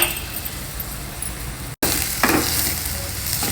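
Chopped onions and green chillies frying in oil in a pan, a steady close sizzle throughout, briefly cut off by a short gap, with faint stirring clinks.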